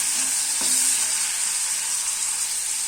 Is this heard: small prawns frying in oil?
yes